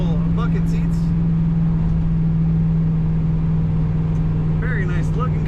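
A 1972 Chevrolet Camaro SS with an automatic transmission accelerates, its engine droning steadily and loudly throughout, with shifts blended into the constant roar and a faint voice briefly audible near the end.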